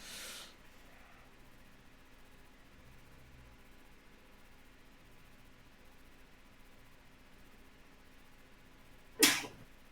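A single sharp, loud sneeze bursts out near the end of an otherwise quiet stretch, with a softer breathy burst at the very start over a faint steady room hiss.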